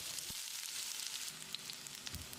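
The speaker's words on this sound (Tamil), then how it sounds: "கொஞ்சமாக கறிவேப்பிலையை சேர்த்து வெங்காயத்தை பொன்னிறமாக வதக்கிடலாம்" Chopped onions and curry leaves sautéing in two tablespoons of hot oil in a pan for chicken curry, giving a close, constant sizzle with small crackles and pops.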